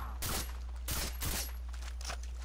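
Three short bursts of gunfire from the video game Far Cry 3 crack out in quick succession, loud and close over a constant low rumble.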